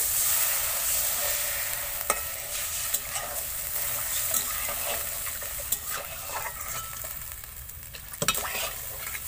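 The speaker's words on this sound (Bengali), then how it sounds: "এবার আমি জল দিয়ে দেবো।" Sizzling mustard paste in a pan for a pomfret fish dish, with a steady frying hiss and occasional sharp clinks and scrapes of a utensil, heard up close.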